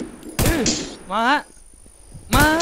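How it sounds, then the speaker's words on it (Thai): Gunfire in The WarZ survival shooter, heard as two loud broadband blasts at start and end with a shouted voice between them; men's speech runs alongside. "เสียงปืนผมตกใจมากเลย"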